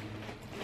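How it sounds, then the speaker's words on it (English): A zipper on a side pocket of a Miss Fong diaper bag, pulled in one continuous, close, faint rasping stroke with no talking. "And then there's another zipper pocket on the side that you can put stuff in there."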